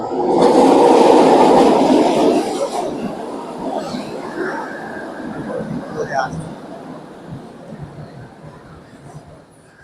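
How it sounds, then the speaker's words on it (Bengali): A train rolls in loudly with a heavy rumble that fades as it slows, followed by metallic squeals and lingering rail noise. "এই যে ট্রেন আসতেছে, এই ট্রেনে আমরা এখন রওনা দেব"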